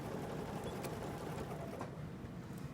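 A Bernina sewing machine fitted with a number 1 D foot stitches a fabric mask, giving a steady close mechanical whirring hum that runs throughout at a moderate level.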